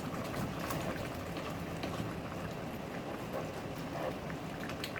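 Steady heavy rain pouring down during a storm, a dense continuous hiss of drops striking surfaces, close and even throughout with no voices.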